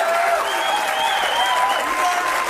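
A studio audience at a comedy talk show applauding, a dense, even wash of clapping that holds steady without a break, with no voices rising above it.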